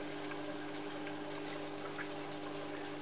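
Aquarium protein skimmer pump running steadily, a continuous watery hum with gushing bubbles and a low mechanical drone, close and fairly quiet with no talking.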